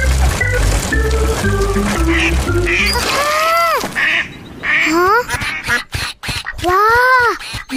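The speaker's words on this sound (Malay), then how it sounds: "Wah, banyaknya itik." Cartoon ducks quack in a run of bright, bouncy calls over a short musical jingle, followed by several distinct, nasal quacks in quick succession, close and loud.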